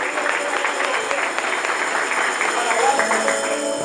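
A church congregation claps together in a steady, fairly loud wash of applause, with voices mixed in underneath throughout.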